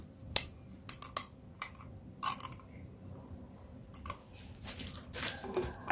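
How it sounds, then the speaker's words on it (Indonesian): Almonds get tipped into a blender jar for an almond smoothie, producing scattered hard clicks and clatters of nuts against the container, fairly quiet and close. "Ini pertama kita masukkan kacang almondnya."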